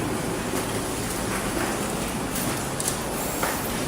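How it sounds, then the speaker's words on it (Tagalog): Rain falls steadily at night in an abandoned hospital in Cavite, a dense, even hiss with scattered drops, heard from inside a third-floor room. "Lamig. Umuulan."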